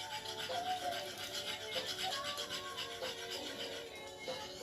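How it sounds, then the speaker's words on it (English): A whisk scrapes and rubs through a thickening sauce in a pan, a soft repeated swishing rhythm at close range, steady and moderately quiet with no voice over it. "We just want to whisk this to make sure it's nice and smooth."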